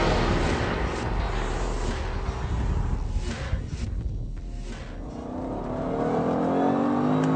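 A Jaguar XFR S on a race track lap, its engine revving hard under acceleration in a continuous loud roar that dips briefly in the middle, as if on a gear change or lift, then builds again. No voices.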